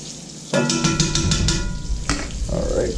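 Pieces of burbot fish frying in a homemade pan with a steady sizzle, broken by a few stirring and scraping knocks near the start and a louder clatter about two seconds in.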